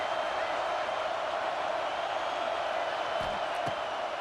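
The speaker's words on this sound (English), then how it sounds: "how nice is it to have the home crowd going absolutely bananas?" Crowd noise from a home stadium in a football video game, a steady broad roar of cheering that holds loud and unbroken throughout.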